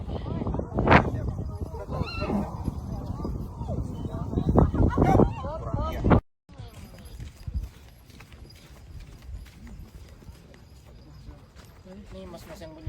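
Hooves of a horse carrying a rider up Mount Bromo in Indonesia clop steadily on the trail, with a whinny and people talking over it; the sound drops out briefly midway, then continues faint and distant.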